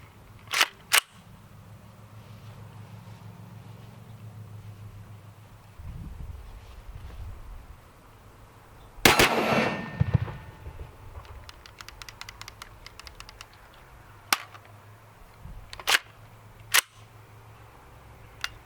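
An Extar EXP 556 pistol fires outdoors in a scattered series of sharp, loud reports, including an irregular rapid burst near the middle that fits a trigger malfunction, with faint wind noise between the shots.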